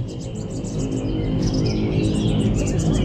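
White-rumped shamas chirp and trill in quick bursts at a songbird contest, over a low engine hum, with several birds calling at once.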